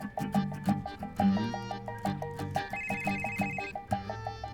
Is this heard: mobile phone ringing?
yes